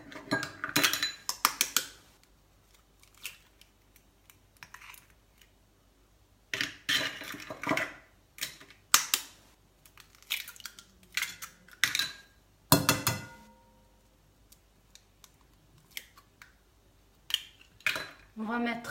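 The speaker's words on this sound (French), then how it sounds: "On va casser les œufs." Eggs being cracked into a bowl for a génoise sponge cake: scattered sharp clacks and knocks against kitchenware, in bursts separated by quiet pauses.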